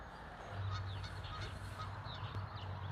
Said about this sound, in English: Okay, geese.